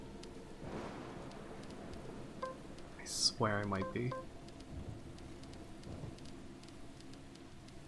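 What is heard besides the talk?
rain in a video game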